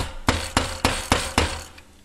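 Steel hammer blows on a wire terminal clamped in a bench vise, five sharp metallic strikes at an even, roughly quarter-second rhythm, close and loud, each ringing briefly before the next.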